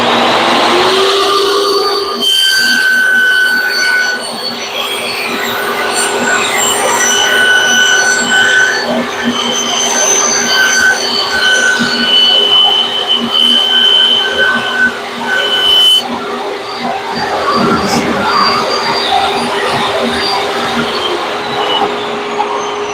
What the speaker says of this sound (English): You can hear the shop vac was still running for a few seconds after I shut off the table saw